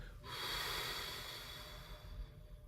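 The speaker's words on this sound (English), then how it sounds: "Very simply, just blow all the breath out." Forceful exhale during a pranayama breathing exercise, a long airy rush of breath blown out close to the microphone, steady then gradually tapering.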